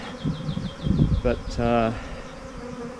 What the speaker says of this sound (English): there's still a lot of bees buzzing and moving